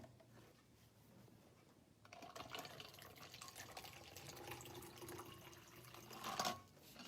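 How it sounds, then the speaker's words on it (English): Cold water pouring from a tap into a cup, starting after a quiet moment with a steady, faint splashing stream that gurgles and briefly surges near the end, with no talk over it. "let's fill it with cold water again"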